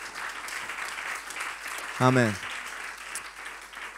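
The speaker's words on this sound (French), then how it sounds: "Est-ce qu'on peut applaudir nos deux amis qui ont fait cette prière aujourd'hui?" A church congregation at a Sunday baptism service claps in a steady, moderate wash of applause, with a voice briefly calling out over the clapping midway through.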